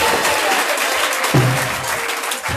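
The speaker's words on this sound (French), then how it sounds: "nous allons applaudir pour la bonne place au nom de Jésus" Church congregation applauding together, a steady dense wash of clapping that holds throughout, with a brief voice or tone rising above it midway.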